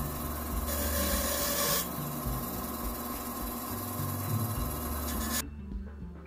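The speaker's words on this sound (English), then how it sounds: "Using a file and sandpaper to smooth some of your additional pieces" Steady rasping and rubbing scrapes of a file and sandpaper smoothing pieces of a scratch-built prop blaster pistol continue over a constant mechanical background hum, the hum cutting off abruptly near the end.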